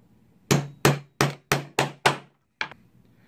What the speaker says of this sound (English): we're going to use our hole punch, and we're going to make stitch marks